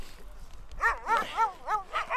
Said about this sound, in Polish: To są łajki jakuckie.